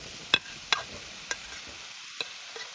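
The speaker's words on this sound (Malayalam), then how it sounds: "ഇനി നമുക്കിതിലേക്ക് അരിഞ്ഞു വെച്ചിട്ടുള്ള മാങ്ങ ഇട്ട് കൊടുക്കാം." Raw mango pieces and onion are stirred and sautéed in a pan for mango curry: a faint, steady sizzle under a handful of crisp spatula clicks and scrapes spaced irregularly.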